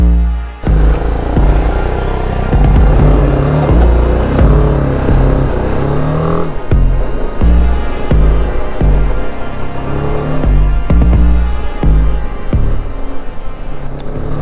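BMW G310GS motorcycle ridden on the Killar-Kishtewar road toward Sach Pass, with a loud continuous engine drone and wind rush, with occasional bumps and shifts in pitch.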